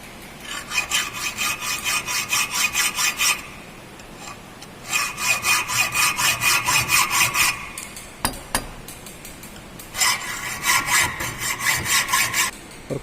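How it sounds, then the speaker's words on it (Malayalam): Hacksaw cutting the centre of a single dovetail fitting workpiece, three sustained runs of steady back-and-forth rasping strokes separated by pauses, close and moderately loud with no talking. "സിംഗിൾ ഡൗട്ടൈലിൻ്റെ വർക്ക് പീസിൻ്റെ സെൻറ്റർ കട്ട് ചെയ്യുന്നു."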